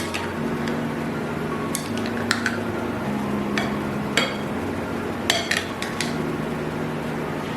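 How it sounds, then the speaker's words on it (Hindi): A spoon clinks and scrapes against a bowl while chopped vegetables and pineapple are tossed together for a Russian salad, with steady irregular metallic taps close by and no talking. "इसे अच्छी तरह मिक्स कर दें"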